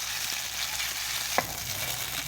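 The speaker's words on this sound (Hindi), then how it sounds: "इसका जब तक इसका कलर तब्दील नहीं हो जाता तब तक हम इसे ऑयल में अच्छी तरह इसको फ्राई करते रहेंगे" Macaroni frying in oil in a pan for sweet kheer, a steady close sizzling hiss with one brief clink midway, no talk.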